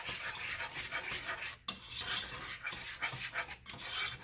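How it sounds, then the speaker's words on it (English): Steady scraping and rasping of a spoon stirring thick homemade play-doh mixture with vegetable oil in a bowl, continuous close strokes with brief pauses, no voices. "What you want to do is you're just going to keep stirring until it starts to form a ball."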